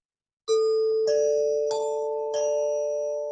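Four chime notes ring out one after another in a slow, even sequence like a doorbell ding-dong, each tone sustaining and overlapping into a mellow, lingering ring, close and alone.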